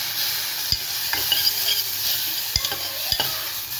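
Curry leaves and tomato sizzle in hot oil for paruppu rasam, a close, steady hiss of frying with a few sharp taps of a spoon on the pan; no one speaks.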